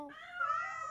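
A cartoon cat gives a single drawn-out meow, rising and holding in a whiny, nasal tone, close and clear with no talk over it.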